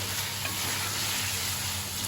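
Chicken pieces and tomatoes sizzle steadily in a hot pan being stirred, a dense, close crackling hiss with no talking.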